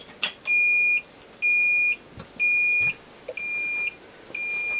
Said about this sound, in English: maintenance alarm, that's fine.